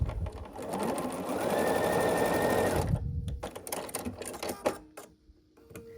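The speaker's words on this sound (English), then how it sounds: "we just sew this together" A sewing machine joins quilt pieces for an autumn pumpkin table runner block, running in one steady burst for about three seconds before stopping. Scattered clicks and handling noises follow as the fabric is shifted.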